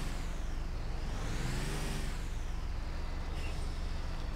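A truck in GTA 5 slows and stops, its engine droning steadily with a rising and falling whine, then a short hiss of the air brakes near the end.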